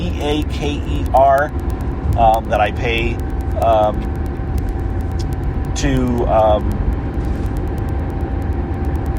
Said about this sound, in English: I record it in my car while I'm driving.